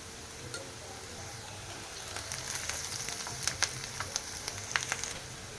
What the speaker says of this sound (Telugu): ఒక రెండు నిమిషాలు ఆనియన్ ఫ్రై చేసుకోవాలి ఒక చిన్న టీ స్పూన్ పసుపు వేస్తున్నాను